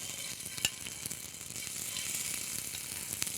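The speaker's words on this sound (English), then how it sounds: "we're just gonna place those in there and get a nice good sear going" Scallops searing in a hot pan, a steady soft sizzle and crackle with a few small pops, faint and close, with no voices.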